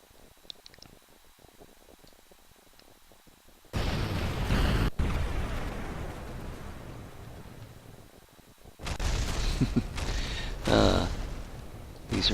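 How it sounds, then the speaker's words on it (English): A rocket blows up in the video game Kerbal Space Program, with a sudden loud blast followed by a long rumbling roar, then a second burst of crackling noise after a quiet gap. "But I'll be able to give you a nice explosion."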